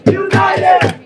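A protest crowd at Foley Square chants in loud rhythmic shouted bursts, several voices yelling together in quick repeated syllables close by.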